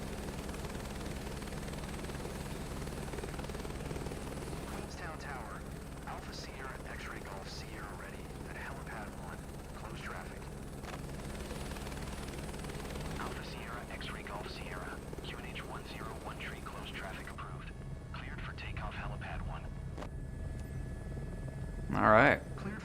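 Helicopter engine in Microsoft Flight Simulator 2024 on PlayStation 5 Pro, a steady low droning rotor hum running evenly throughout with a person talking over it.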